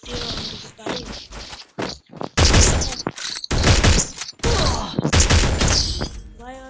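Gunfire in a shooting video game, loud bursts of rapid shots in several separate volleys, close and sharp, with someone talking between and over them.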